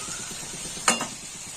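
Turmeric powder frying in a pan, a steady soft sizzle with a light stir, a brief bright clink of a utensil against the pan partway through, no talking.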